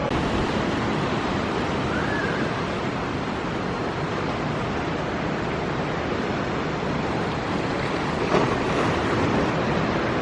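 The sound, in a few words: ocean waves at Monterey Bay, Cannery Row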